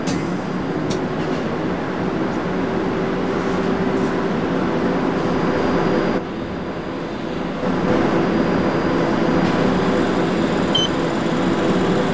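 A loud, continuous rumble and rush of a Berlin U-Bahn U7 subway train in the video game Trainz 2004 running through a tunnel, with a brief dip midway before the steady roar resumes.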